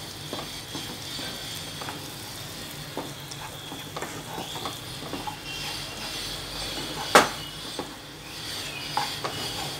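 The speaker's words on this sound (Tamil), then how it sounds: "நெய் ஊற்றி நல்லா கிண்டி விடுங்க." Wheat halwa fries in ghee in a pan while being stirred, a soft continuous sizzle with scraping strokes and occasional spoon clinks, one sharp clank midway.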